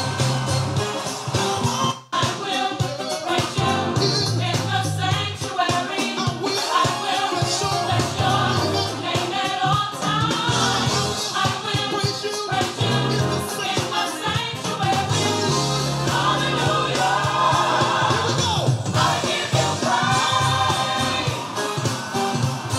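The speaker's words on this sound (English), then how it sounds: "I played a little bit of the tracks you can hear. There's a lot of sounds in there. There's a piano sound in there." Dense backing track with piano and brass played from iTunes, a full, continuous mix of layered instruments with steady bass and a constant beat running loudly throughout with no talking.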